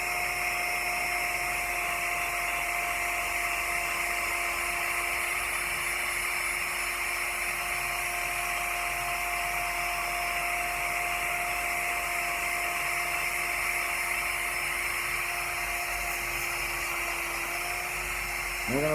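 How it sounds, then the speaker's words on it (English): A power tool polishes the face of an axe out to a 1-inch bevel, a steady high whine with a constant pitch running unbroken and close throughout, finishing with a brief change at the end. "as you watch here, nice and lightly out to that 1-inch bevel, I'm just going to polish the face"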